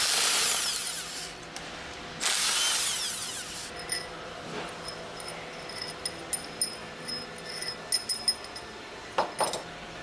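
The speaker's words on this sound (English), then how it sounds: "Use the impact wrench with a 10mm hex drive attached to remove the remaining 6 retaining" Impact wrench with a 10mm hex drive removing retaining bolts on a General Pump HTCK pump manifold, two loud whirring bursts followed by quieter clinks and tool rattles.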